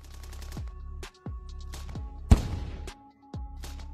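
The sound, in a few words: gunfire and grenade from an assault group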